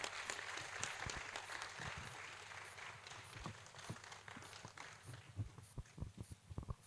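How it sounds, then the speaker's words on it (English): Audience applause at a scientific society's annual conference and general meeting, a fairly quiet, sustained clatter of many hands with sharper individual claps toward the end. "Please, let's sustain the applause."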